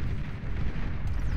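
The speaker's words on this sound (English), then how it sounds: "Pop-up plasma artillery, pardon me." Pop-up plasma artillery firing in the strategy game Beyond All Reason, heard as a dense, low, rumbling blast that sustains for over a second at moderate loudness.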